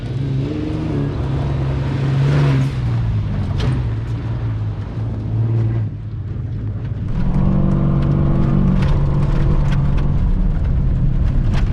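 A prerunner truck drives through the Plaster City desert and hits a jump. A loud, close engine roar rises and falls with revving, then builds again to a sustained high-rpm drone.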